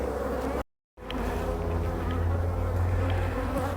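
Honey bees buzz steadily around their hives, a dense droning hum close by that cuts out for a moment and then resumes, with no talking.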